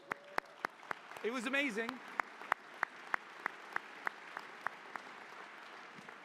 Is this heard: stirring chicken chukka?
no